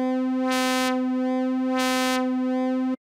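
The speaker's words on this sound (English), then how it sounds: "a wave that can morph from SAW to triangle." A bright buzzy tone from a Klavis Twin Waves MkII digital oscillator holds a single pitch, its timbre periodically morphing between harsher saw and softer triangle, then cuts off abruptly.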